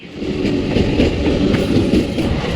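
A moving passenger train bound for Sealdah, heard from inside the carriage as a loud, steady low rumble with faint rhythmic rattling of the wagon.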